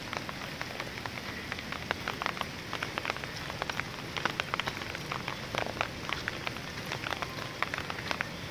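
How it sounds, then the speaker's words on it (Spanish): Rain falling at nightfall over the hillside neighbourhood of Siloé in Cali, a dense continuous patter of drops hitting surfaces nearby, steady and moderately soft with no voices. "Llueve pues acá"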